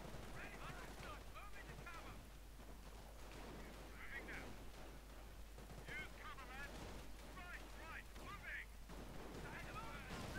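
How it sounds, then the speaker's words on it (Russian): Machine-gun fire from the Battle of Crete mod sounds in dense, rapid bursts at a steady moderate level, with scattered distant shots and someone talking over it throughout. "Что ж там пулемет? А, ну он сейчас тут по этим позициям теперь стреляет."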